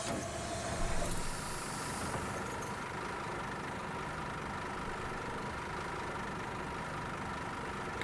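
A Scania bus with a rear-mounted engine idles in the game The Bus, a steady low mechanical drone with a brief louder rise near the start, then an even hum.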